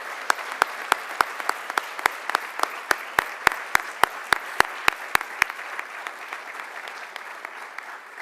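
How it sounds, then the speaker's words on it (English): Applause at an annual honors and awards ceremony, heard as a steady wash of clapping with sharp individual claps standing out, fading gradually toward the end. "please acknowledge with a great round of applause the Reverend Alan Yawn."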